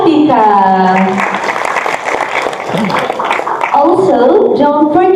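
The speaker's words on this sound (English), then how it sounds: "Give a applause to Miss Kartika." Applause for a performance at a student architecture workshop opening ceremony, a crowd clapping steadily in the middle while a voice speaks over the start and end.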